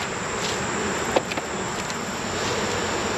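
Honeybees buzzing steadily at an open beehive during formic acid treatment, a dense continuous drone close to the microphone with a few faint knocks.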